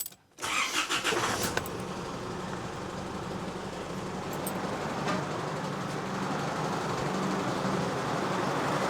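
An Isuzu D-Max engine cranks briefly at the start, catches and settles into a steady, close diesel idle that holds for the rest of the clip with no talking.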